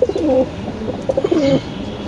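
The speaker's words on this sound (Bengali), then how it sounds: "কবুতর ডাকটা দেখে দিলাম" A pigeon coos close by in a few soft, rounded, throaty phrases, with no talking.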